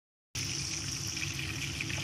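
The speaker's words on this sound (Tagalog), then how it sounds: "O, lagyan ng tubig." Water pours into a pan of cooking saluna fish with bell pepper, a steady close rushing stream that starts abruptly after a short silence and keeps flowing evenly.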